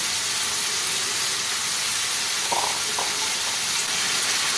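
Drumstick flowers, rinsed and fried plainly without spices, hiss steadily in a hot pan, a close continuous sizzle with a couple of faint knocks partway through.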